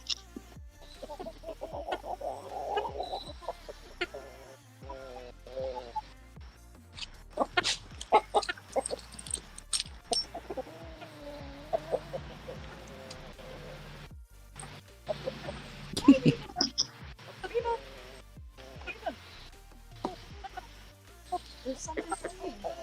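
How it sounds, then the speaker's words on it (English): Hens and a rooster clucking and squawking inside a coop, bursts of close, irregular calls coming and going, with a person talking intermittently among them. "There's a rooster."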